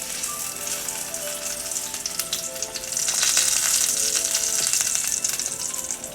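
Alaskan king salmon skin sizzles and fries steadily in a hot pan, a close crackling hiss that grows slightly louder partway through.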